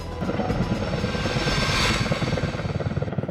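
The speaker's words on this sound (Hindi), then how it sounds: "हेली क्रेन अपने सपोर्टिंग B3 हेलीकॉप्टर के साथ" A heli-crane helicopter on daily runs over mountain transmission-line work sites roars loudly and steadily nearby, its rotor chop pulsing fast and clear as it passes.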